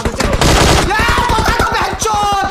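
Rapid automatic gunfire in the game PUBG rattles out in quick bursts, loud and close, with a brief pause before more shots.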